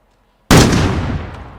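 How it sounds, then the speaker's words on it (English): A single loud, close sniper rifle shot in the battle royale game Call of Duty Warzone, a sudden sharp crack that follows silence and rings out into a long booming echo. "I can only imagine how loud that sniper rifle must be in real life."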